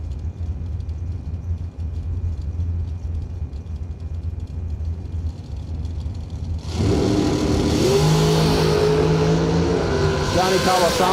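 A dragster in the right lane of a drag strip is idling low before launching into a sudden, loud, full-throttle roar that holds to the end.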